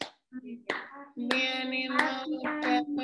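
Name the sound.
children clapping hands to a song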